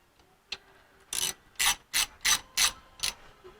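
A ratchet wrench snugs bolts on an Eaton posi 8.2 10-bolt rear axle, giving a faint click, then six loud, evenly spaced bursts of ratcheting at close range with no talk.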